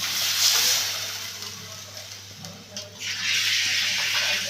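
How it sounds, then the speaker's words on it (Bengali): Water runs from a tap while a mixer grinder jar is rinsed and then filled, a steady hissing splash that thins for a moment before surging again. "মিক্সিটা ধুয়ে আমি জলটা দিয়ে দিচ্ছি।"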